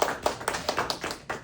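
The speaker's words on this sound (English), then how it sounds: "So give yourselves a round of applause on that side." A small group at a life insurance company gathering in Oxnard claps in a quick, fairly even rhythm, about seven distinct, close claps in a short burst.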